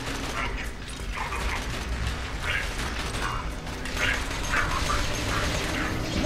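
Bolt loader robots from the video game Borderlands 2 roll along with whirring, clanking mechanical gears and ratcheting bursts, repeating unevenly at moderate loudness over a steady game background, with no speech.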